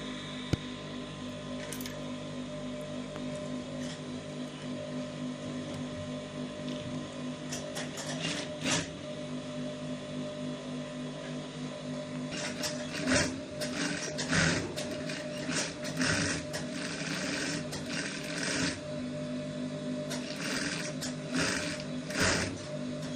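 A sewing machine top-stitches a shirt placket with a steady mechanical whir and clatter that runs throughout, growing busier and more rattly in the second half, close and continuous with no voices.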